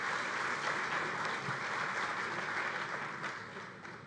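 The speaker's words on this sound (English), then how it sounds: "A round of applause for Elizabeth and Paul" A conference audience at an expo claps for two presenters, a brief, even wash of applause at moderate level that tapers off over four seconds.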